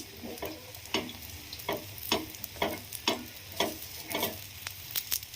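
An omelette fries in a pan for bread omelette, giving a steady sizzle with regular scraping or stirring strokes roughly every half second, close and moderately quiet.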